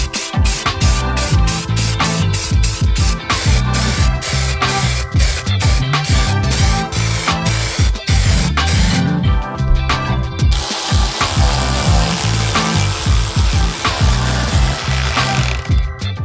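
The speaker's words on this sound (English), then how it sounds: "fortunately, spray paint exists" Spray paint hisses onto the mesh behind a cut opening in a Toyota Corolla XRS bumper. A steady, loud, bright hiss runs through the second half, over a busy rhythmic clatter.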